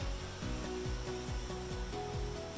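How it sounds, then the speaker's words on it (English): A large area vacuum gripper runs while gripping a cardboard box, giving a steady, loud rushing hiss of air with a repeating mechanical pulsing beneath it, close by and without talk. "I'm going to demonstrate a large area vacuum gripper"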